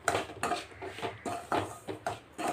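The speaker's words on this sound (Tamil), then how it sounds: "அதில் இந்த ரவையை 3/4 கப்பு ரவையை அதில் சேர்த்து நல்லா வறுக்கணும்." Semolina roasting in a pan for rava laddu, stirred with a metal spoon: repeated clinks and scrapes against the pan come in a steady rhythm of about two strokes a second, close and clear, with no talking.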